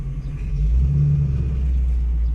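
The V8 engine of a vintage 1978 Ford Mustang rumbles in a deep, heavy low-end throb that swells slightly and holds steady, loud and close, with no talk.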